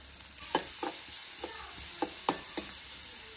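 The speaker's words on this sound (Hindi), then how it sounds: "आपण आता बारीक चिरलेला कांदा आहे तो सुद्धा घालून घेणार आहोत आणि छान असा गोल्डन कलर येईपर्यंत परतून घेणार आहोत" Finely chopped onion frying in a pan, with a steady bright sizzle throughout and a handful of sharp scraping clicks from a spoon stirring against the metal, spaced irregularly.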